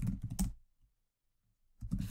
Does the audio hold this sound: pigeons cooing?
no